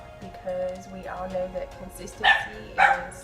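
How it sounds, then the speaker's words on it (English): A pet dog barks twice in quick succession near the end, loud and close, while someone talks steadily through a makeup routine indoors. "that's my dog"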